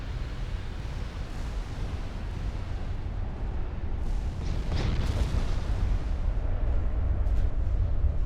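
Warship big guns firing in an Ultimate Admiral Dreadnoughts naval battle, deep rumbling booms rolling continuously with a sharper burst near the middle, loud and sustained with no talk.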